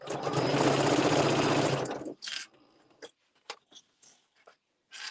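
Sewing machine stitching a plush fleece wrap, a close, rapid mechanical chatter for about two seconds, then stopping, followed by a few short clicks and soft fabric handling noises.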